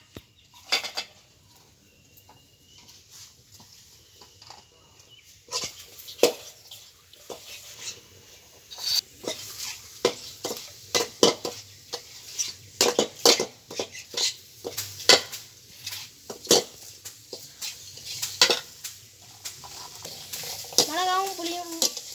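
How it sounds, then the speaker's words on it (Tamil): Thuthuvalai leaves, garlic, dried red chillies and tamarind stir in a hot pan. A spoon scrapes and clatters irregularly against the metal over a faint sizzle, growing busier partway through. "வாங்க அதை வதக்கலாம்"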